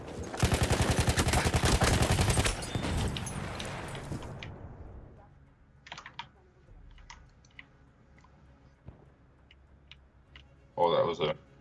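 A burst of rapid automatic gunfire in Battlefield 1, loud and close for a few seconds, then fading into sparse clicks and distant shots, with a final loud burst near the end and a voice speaking.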